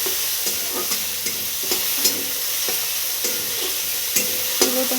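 Tomatoes frying in a pan with a little salt for an egg curry, a steady close sizzle broken by regular scraping stirs about every half second.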